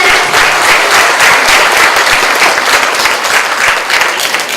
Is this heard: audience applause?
yes